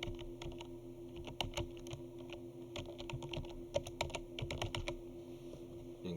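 Crisp, fairly quiet clicking of keys being typed on a computer keyboard, irregular bursts of keystrokes with short pauses between them over a faint steady hum.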